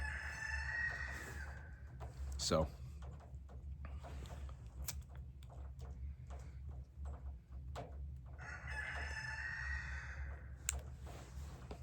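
A backyard rooster crows twice, once at the start and again near the end. Both calls sound moderately distant over a steady low hum, with scattered clucks and clicks in between.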